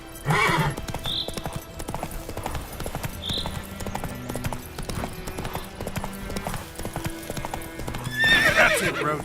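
Roach, a horse in The Witcher 3 on Death March difficulty, gallops with steady rapid hoofbeats throughout, with a whinny near the start and a louder neigh near the end, over game music.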